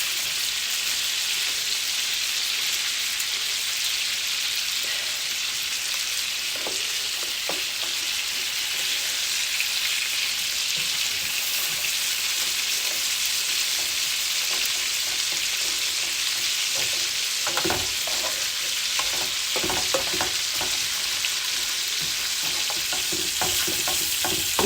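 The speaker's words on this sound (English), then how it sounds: "Every time you're placing like beef or lamb, it needs to be a hot pan." Lamb loin chops sear in a hot pan on a stovetop, giving a loud, continuous sizzle with scattered pops and crackles of spitting fat, heard close up with no talking.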